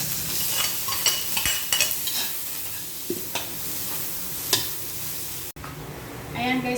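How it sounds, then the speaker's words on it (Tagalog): Ginger and garlic sautéing in a pan for a crab dish, a steady close sizzle with repeated scraping stirs and utensil knocks throughout. "igigisa na natin yung ginger at saka yung garlic"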